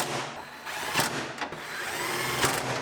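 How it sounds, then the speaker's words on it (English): A power tool runs steadily while bolting car taillights onto a Toyota RAV4 quarter panel, a continuous near whir with a few brief surges in pitch and no voices. "Now we can bolt in our taillights and finish panel."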